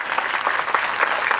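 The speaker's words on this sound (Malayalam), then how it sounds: "നല്ലൊരു കൈയടി." A crowd of women at a film screening applauds in a brief, dense burst of steady clapping, close and loud.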